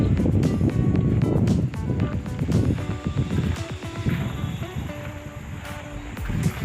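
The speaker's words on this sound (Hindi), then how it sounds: "पीछे जो आवाज़ आपको आ रही है पार्वती रिवर की" Parvati River rushing near a riverside camp in Kasol, Himachal Pradesh: a steady broadband roar of flowing water runs throughout, with some wind buffeting on the microphone.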